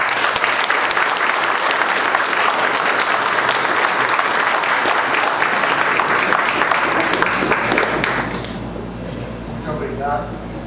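An audience claps loudly and densely for about eight seconds after a university professor is introduced, then the clapping falls away to quieter room noise as a voice begins speaking.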